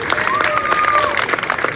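Clapping from an outdoor street-performance crowd at an Easter arts festival after a knife throw, brief scattered applause with a whistle-like tone and some voices mixed in.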